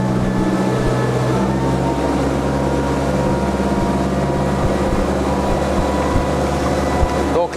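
A 2013 Nimbus 34 Nova S motorboat engine drones steadily under throttle, a low continuous hum with water rushing around it, constant and close throughout.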